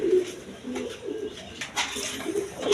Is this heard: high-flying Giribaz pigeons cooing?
yes